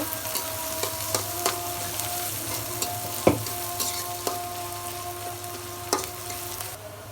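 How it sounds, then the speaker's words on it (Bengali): Sliced onions fry in hot oil in a wok over a stove, hissing with a steady sizzle. Sharp clicks and scrapes of stirring cut through at uneven intervals, close and fairly loud, with no talking. "পেঁয়াজগুলো লাল লাল করে ভেজে নেব।"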